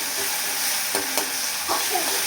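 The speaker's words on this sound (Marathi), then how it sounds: "आता ह्याच्यामध्ये मुगाची डाळ टाकते" Moong dal tipped into a hot pan with green chilli and garlic, giving a steady low sizzle with a few soft stirring scrapes, close and fairly loud, with no talking.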